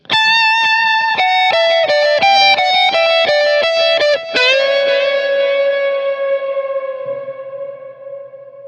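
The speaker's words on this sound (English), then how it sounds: "so I used the deep space reverb" An electric guitar lead line runs through a deep space reverb on a Fractal FX8. A quick run of loud, bright notes ends on a held final note that swells into a long, shimmering, echoing wash and slowly fades.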